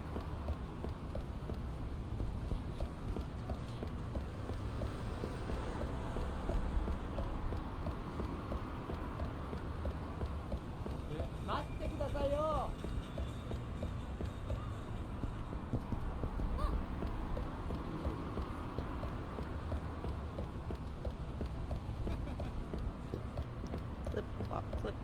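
Horse hooves in the Yakuza 3 video game, a soft and continuous clip-clop running steadily beneath a dense bed of ambient noise, medium distance and fairly faint.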